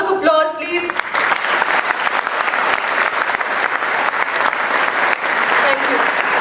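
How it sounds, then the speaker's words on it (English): Audience at a launch ceremony breaks into a sustained round of clapping after a brief spoken line, the dense applause filling the room steadily and loudly to the end. "A round of applause, please."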